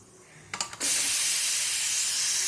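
A few sharp clicks are followed by a loud, steady hiss of steam rushing from a pressure cooker of boiled chickpeas, continuing close up without pause.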